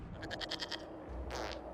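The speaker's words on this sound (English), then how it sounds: "we discovered this man attacking the building with a goat" A goat from Dragon Age: Inquisition bleats in a short, wavering series of pulses, then gives a second brief, breathier cry, fairly faint over a low background rumble.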